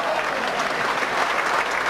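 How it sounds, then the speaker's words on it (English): Argyle fans applaud at a Plymouth Argyle versus Manchester City football match, a steady, dense wash of clapping from a large stadium crowd that holds level throughout. "And deservedly gets some applause from the Argyle fans"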